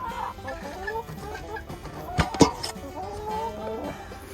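Chickens cluck softly nearby in short, scattered calls in a winter coop in Minnesota, with a couple of sharper, louder clucks in the middle.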